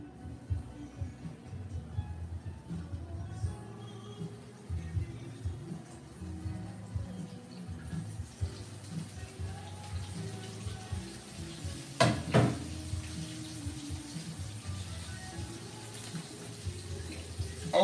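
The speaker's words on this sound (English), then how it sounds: "That's already frying." Fish coated in buttermilk and spices fries in hot oil on a powerful stove, giving a steady, close sizzle and crackle that runs throughout, with a brief louder clatter near the end.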